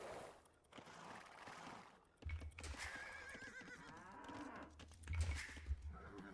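Cattle in Age of Empires II lowing repeatedly, several moos sounding over a busy game backdrop with horse neighs and faint hoof clops mixed in.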